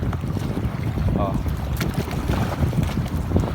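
Big Pacific Ocean waves and gusting wind surround a tuna fishing boat, a steady rushing roar with heavy wind buffeting on the microphone; a man gives one brief exclamation.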